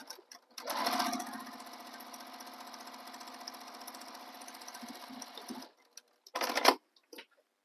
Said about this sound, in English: we're going to stitch this, so edge stitch it